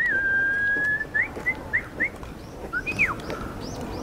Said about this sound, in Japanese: ウグイスも鳴いて。